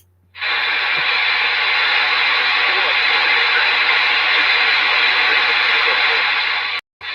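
A loud burst of CB radio static hisses steadily for several seconds in very poor reception conditions, with a weak, garbled transmission buried in the noise before it cuts off.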